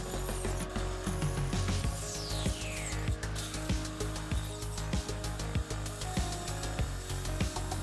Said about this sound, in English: Take it over to the bandsaw.